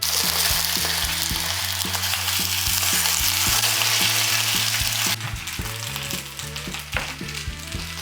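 Potatoes sizzle vigorously in a pan with sliced garlic and Szechuan chili pepper, a continuous close frying hiss with a few stirring taps, while a low melodic music track plays underneath throughout.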